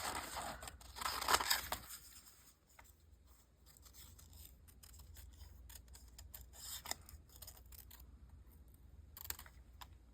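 Scissors cutting paper shapes for a handmade collage: a few quiet crisp snips and rustles, with a busier burst of paper handling near the start, then sparse soft clicks in a quiet room.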